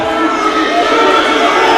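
A wrestling arena crowd on its feet cheering at a rumble match, a loud, steady roar of many voices sustained throughout.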